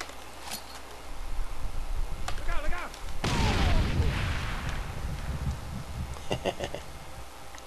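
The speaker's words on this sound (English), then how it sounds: "Let's huck in a grenade." A grenade blast in Far Cry 2 erupts as a sudden loud broadband explosion with a rumbling tail, preceded by scattered gunfire cracks and followed by more shots.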